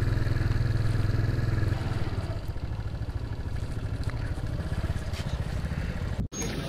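Motorcycle engine idling and puttering close by while a bike is parked near a hilltop stupa in Leh, a low steady rumble that eases slightly, with a sharp thump near the end.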